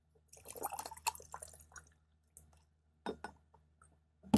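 Water is poured into a glass beaker while an ammonia fountain experiment is set up. It comes as a cluster of close, trickling splashes, then a few short, separate spurts and drips with quiet gaps between them.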